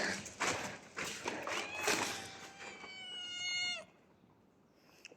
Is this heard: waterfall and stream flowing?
no